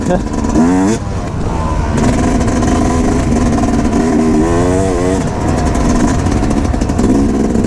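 A KTM 350 XC-F dirt bike engine revs steadily up and down close by, its pitch climbing and falling through gear changes, with someone talking over it.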